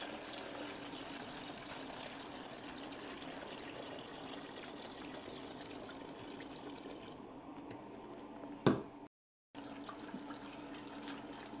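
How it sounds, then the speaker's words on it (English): Hot water at about 150 degrees poured slowly into a Multi-Etch jug, a steady liquid pouring and filling sound lasting several seconds, fairly soft and continuous, ending with a brief clunk before a short gap. "Slowly pour that into the multi-etch jug."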